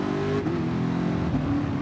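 A race car in Gran Turismo Sport drones at steady high revs, its engine tone dipping briefly as throttle lifts then holding again, moderately loud and alone.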